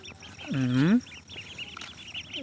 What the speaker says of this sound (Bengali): এই হাঁসের বাচ্চা